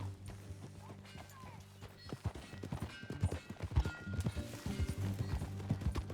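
Horse hooves clip-clop in a quick, steady gait, close by, over a low droning hum of game music in Red Dead Redemption 2.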